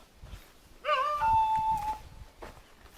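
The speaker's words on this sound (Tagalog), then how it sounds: "kumakanta yung aso" A dog howls once, a single drawn-out, wavering cry lasting about a second, moderately loud over quiet outdoor background noise, followed by a softer whimper.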